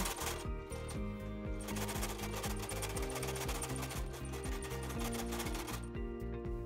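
Domestic sewing machine stitching a fabric seam with a 1 cm seam allowance for a homemade dog bed, a rapid steady mechanical chatter with short stops and restarts, close and alone without talk.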